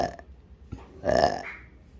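A person lets out a single close, loud burp partway through while getting a kerokan coin-scraping treatment for masuk angin, preceded by a few quieter scraping and shuffling sounds.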